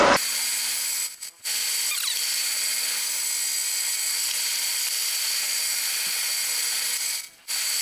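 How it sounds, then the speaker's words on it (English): A 10 mm brad point bit drills holes in a wooden Stratocaster-style guitar neck set over a backing board, giving a steady, close power-tool whine that runs almost continuously with two brief breaks. "I got a brad point drill bit, and I'm going to drill in each one of these holes. This is a 10 millimeter bit."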